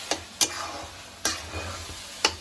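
Puran filling of cooked lentils with jaggery and cardamom stirred in a pot, a handful of sharp spoon knocks over a low bubbling sizzle, close and fairly quiet, with no voices.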